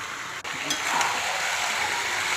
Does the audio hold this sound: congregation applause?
no